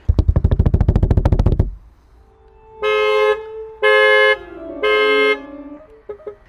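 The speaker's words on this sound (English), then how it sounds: "the loudest thing is the car alarm, the actual beeping" A Tesla's alarm sounding in Sentry Mode, heard as three loud, steady electronic beeps, each about half a second long and evenly spaced, following a burst of buzzy low rumble at the start.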